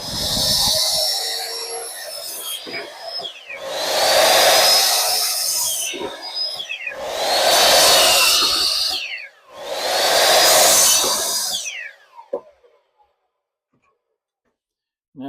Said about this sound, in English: just going to use my chop saw to cut the 1x4 pieces for those bottom L girders